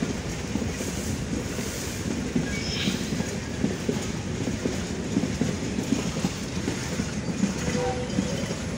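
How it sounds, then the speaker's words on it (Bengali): The Nilphamari-bound Simanto Express night train rumbles past up close in a village, a steady loud roar of wheels clattering on the rails that fills the whole stretch. "সবাই আসে ট্রেনটা দেখতেছে"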